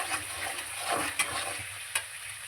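Masala roasting in oil in a pan for cashew paneer, a steady frying sizzle with a couple of sharp scraping clicks from stirring, close and moderately loud, no talking.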